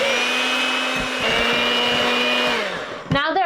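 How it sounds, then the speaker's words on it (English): An electric mixer whirs steadily at high speed through banana bread batter, a close, loud motor whine holding for about three seconds before it cuts off with a brief clatter. "now we're just gonna beat that in high speed For 5 minutes"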